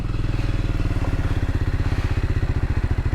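A Triumph Scrambler 400X motorcycle climbs a steep hill road in first gear, its single-cylinder engine thumping loud and close in a fast, even pulse with no voices.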